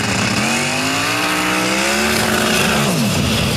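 Twin-turbo 540 cubic inch Chevrolet racing engine roaring loud and steady at high revs with a sweeping, rising pitch as the tires fail to hook up, continuous and close throughout.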